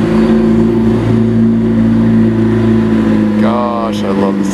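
A sports car engine drones loudly and steadily nearby, holding a deep sustained roar, and a voice briefly speaks near the end.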